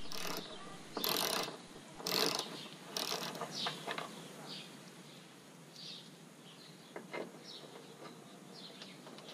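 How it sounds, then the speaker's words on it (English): Ratcheting wrench clicks while three T30 Torx bolts are backed out of the top of a car bumper, a few loud bursts of quick clicking followed by softer, scattered ratchet ticks. "On top of the bumper there are 3 T30 Torx bolts you need to remove."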